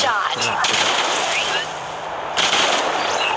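Vandal rifle fire in the shooter game Hyper Front, a quick burst of sharp shots followed by a pause and another crack, loud and close, with game sounds layered around it.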